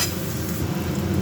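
Ridge gourd and onion frying together in a pan, a steady dense sizzle close by with faint stirring, continuous and fairly loud for a brief moment with no talk.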